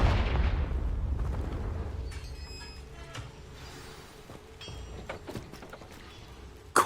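A Confringo explosive spell goes off in Hogwarts Legacy: a loud blast with a rumbling decay that fades over several seconds, leaving scattered small crackles and pops behind it and a sharp burst right at the end.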